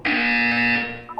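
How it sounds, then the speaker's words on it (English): An electronic buzzer tone from the video game Portal 2, one loud steady harmonic buzz holding for about a second before cutting off, with a short blip at the end. "When you hear the buzzer, look up at the ceiling."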